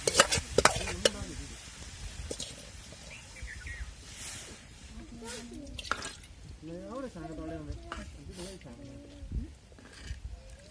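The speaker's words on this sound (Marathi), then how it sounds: "आता फोडणीला आपल्याला कढीपत्ता आणि कोथिंबीर टाकायचं आहे" Curry leaves and coriander hit hot tempering oil over a wood-fired stove while a moong curry is cooked, giving a steady close sizzle with stirring scrapes, under a voice talking throughout.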